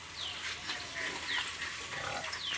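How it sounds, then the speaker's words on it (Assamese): Pigs on a farm eating feed mixed with rice, with faint, quiet munching and occasional soft grunts and squeals at a close distance. "এয়া গাহৰি দানা খাই আছে"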